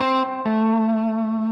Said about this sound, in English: you can hear that reverb really, really spanking through everything